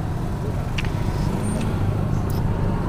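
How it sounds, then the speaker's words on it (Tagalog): Heavy road traffic in a congested street, a dense, loud rumble of engines and passing vehicles close by, with a few brief higher chirps and faint voices mixed in. "Sobrang traffic kasi guys"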